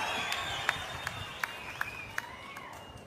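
Audience at a government welfare event clapping in approval, a scattered run of distinct claps at a steady pace, fairly faint and distant over a broad background hum.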